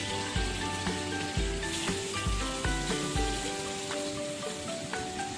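Fish frying in hot oil in a kadai, a continuous crackling sizzle with scattered pops and spatters, under light kitchen noise and a few metallic clinks.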